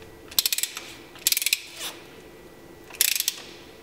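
A screw being turned and tightened, heard as quick bursts of ratcheting clicks, three separate runs with short pauses between them, close and fairly clear.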